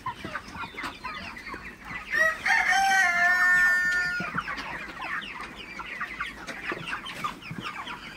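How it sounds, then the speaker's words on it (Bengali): A flock of broiler chickens clucking and squawking in agitation as they are chased before dawn, with one rooster-like call rising loud in the middle, birds scattering nearby. "তো মুরগিগুলাকে একটু তাড়াই দিচ্ছি আসলে"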